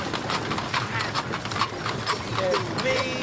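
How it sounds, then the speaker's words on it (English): Horse hooves clip-clop steadily on a wagon train trail, a pinto horse moving at a walk amid outdoor bustle, with people talking in the background throughout. "Mi caballo pinto"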